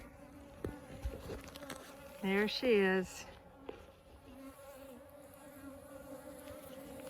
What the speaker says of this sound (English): Got a handful of bees with her.